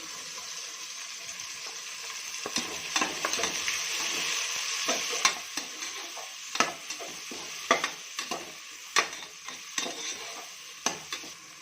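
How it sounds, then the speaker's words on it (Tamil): Onion and tomato for vegetable biryani sauté in a pan with a low, steady sizzle, while a spoon scrapes and taps against the vessel in irregular, sharp knocks every second or so. "அடுத்து வந்து வெங்காயம் தக்காளி வந்து வதங்கிடுச்சு."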